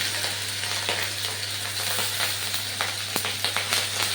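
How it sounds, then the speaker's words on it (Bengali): Onion stalks and garlic paste fry in a hot pan with a steady, close sizzle and crackle throughout, with occasional stirring clicks and no talking. "এবার এর মধ্যে আমি দিয়ে দিলাম পেঁয়াজের ডাটা সঙ্গে রসুনের বাটাটাও আমি অ্যাড করে দিলাম"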